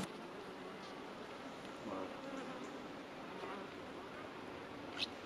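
Honeybees buzz at a beehive being prepared for winter, a steady, moderately close droning that carries on alone with a few faint clicks.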